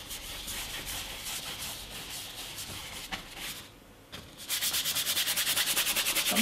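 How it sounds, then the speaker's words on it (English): A brush scrubs oil paint into the weave of a canvas in rapid back-and-forth strokes, a close, dry rasping rub that grows louder and more rhythmic toward the end. "I'm really scrubbing that now into the weave of the canvas."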